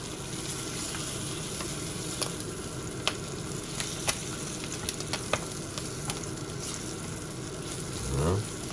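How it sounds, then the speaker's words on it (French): Butter and flour roux sizzling steadily in a pan on a lowered burner, with scattered sharp crackles and spatters, ending in a brief louder swirl of movement; no one speaks. "le beurre et la farine forment un petit empois. On va bien colorer tout ça."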